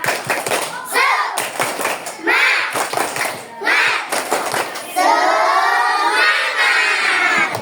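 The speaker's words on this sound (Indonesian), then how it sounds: "kita tepuk semangat dulu ya. Tepuk semangat." A class of children performs the 'tepuk semangat' rhythmic clapping chant, bursts of clapping and chanting voices in loud alternating phrases, ending in sustained group chanting.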